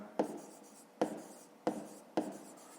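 A pen writes on paper during a fifth-grade maths exercise, four short scratching strokes at a steady pace, close and quiet, with no voices.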